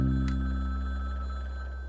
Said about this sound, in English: Can't just leave the phone ringing.